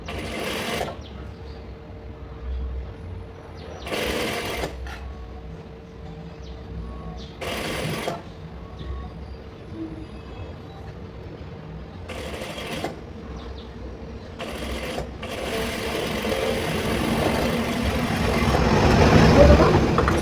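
A sewing machine stitches patchwork fabric in short, close whirring bursts separated by pauses. The final run builds into longer, louder stitching, and low room noise sits underneath throughout.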